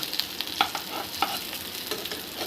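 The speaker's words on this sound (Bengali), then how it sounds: "এবার আমি উল্টিয়ে আরেকটা পিঠ ভেজে নেব এভাবে সবগুলো আমি ভেজে নেব" Papaya and lentil fritters frying in oil as they are flipped, with a soft, continuous sizzle and several quick spatula taps and scrapes close by.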